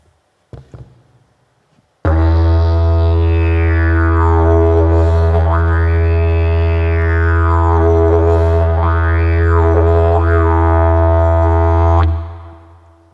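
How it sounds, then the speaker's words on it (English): A didgeridoo played with circular breathing holds a loud, unbroken low drone for about ten seconds, its overtones swooping up and down in wavy arcs, after a couple of faint knocks at the start. "The second step is the circular breathing. So I breathe in through my nose and out of my mouth at the exact same time."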